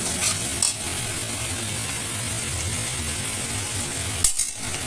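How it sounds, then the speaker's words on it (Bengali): Soyabean and mukhi kachu curry masala frying on medium heat, a steady low sizzle and stirring scrape running continuously with a brief utensil clatter near the end. "খুব ভালো করে কষে নেবো যত কষানো যাবে তত টেস্টটা ভালো হবে"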